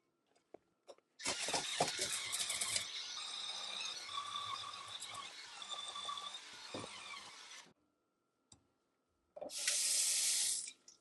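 Water from a running faucet pours and splashes steadily over a pan being rinsed after spin-scrubber cleaning, a long stream that stops, then a second short burst of flowing water follows after a pause.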